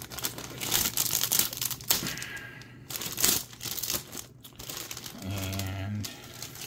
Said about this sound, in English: it's going to have to be cut open also, so use my little scissors